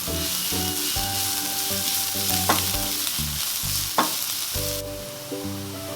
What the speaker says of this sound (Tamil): வெங்காயம் நல்லா கோல்டன் ப்ரௌன் வர வரைக்கும் வதக்கிக்கோங்க.